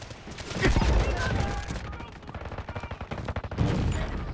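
Rapid gunfire from a weapon in the mobile shooter Delta Force Mobile, with loud bursts in quick repeated rhythm layered over game ambience and someone talking.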